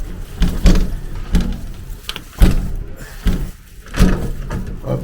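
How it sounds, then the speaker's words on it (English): Someone tugs and rattles a locked door in Kodiak, Alaska, giving several loud, close knocking thumps in an uneven rhythm, with scuffing and handling noise between the jolts. "the door is locked"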